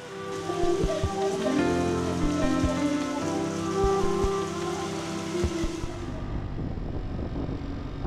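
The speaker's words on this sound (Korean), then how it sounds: "비가 한 방울씩 떨어지길래 집으로 돌아왔네요." Rain falling steadily, a loud, dense patter of drops on surfaces with some sharper tapping hits, continuous throughout before it thins and quiets toward the end.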